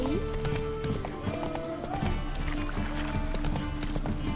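The horse Roach trotting in The Witcher 3: Wild Hunt, a brisk rhythmic clip-clop of hooves heard throughout, close and steady, with voices talking and a tonal line weaving over it.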